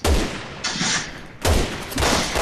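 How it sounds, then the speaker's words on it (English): Sniper rifle fire in the video game Resident Evil 6: three loud, sharp shots in quick succession, each with a ringing tail, and no talk. "Oh shit, sniper."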